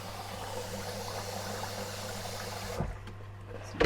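Hot tap water pours into a baking dish around a Dukan creme caramel, a steady rushing stream over a low hum that stops near the end, followed by a couple of small clinks.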